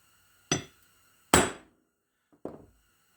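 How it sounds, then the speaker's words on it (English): Three sharp metallic hammer strikes on a punch, making a hole in metal during a Case D engine assembly, each ringing briefly and decaying, spaced irregularly in a quiet setting. "Smack it real good with the hammer."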